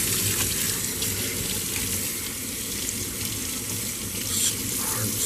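Running tap water pours steadily over a Shark Navigator NV22L vacuum's dirty filters being rinsed in a sink, a continuous close hiss and splash with no talk.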